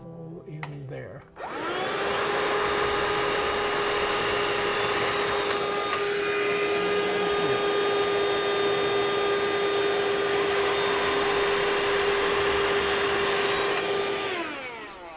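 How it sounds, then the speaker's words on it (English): A vacuum pump runs during a MrCool 24K BTU mini split installation, a loud steady whine that starts after a brief clunk and holds evenly for over twelve seconds before tapering near the end. "I'm going to run the vacuum and put another hole in there."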